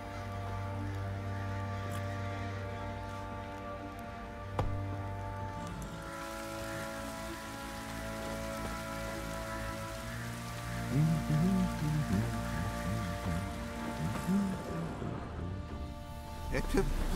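Rain patters steadily on surfaces in a fantasy video game scene on the road to Oxenfurt, a soft hiss that runs beneath sustained musical tones, with voices speaking over it.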